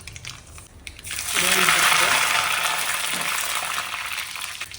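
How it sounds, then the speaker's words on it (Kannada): Mustard seeds dropped into hot oil for a Kundapura tomato rasam tempering burst into a loud, dense spluttering sizzle after a quieter second, then keep crackling steadily and close until the end. "ಎಣ್ಣೆ ಬಿಸಿಯಾಗಿದೆ, ಸಾಸಿವೆ ಹಾಕ್ತಾ ಇದ್ದೀನಿ."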